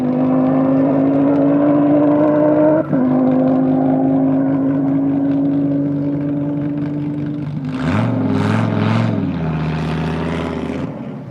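A drag race car at an airstrip event holds a loud, steady high-revving engine drone during a burnout, then the pitch shifts and the engine surges through several pulsing revs, strong and fairly close.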